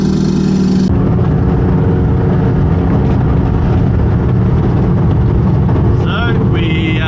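A Nissan Micra K11 engine runs loud and close under steady driving drone, cabin-heavy and continuous after a brief change near the start, with voices talking over it.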